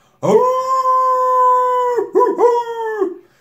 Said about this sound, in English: suddenly one great hound picked up the scent and gave a bay